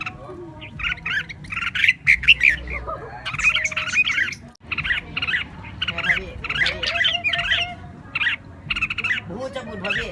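Red-whiskered bulbuls calling close by, a busy run of bright, chattering, bubbly phrases repeating over a low outdoor rumble for several seconds.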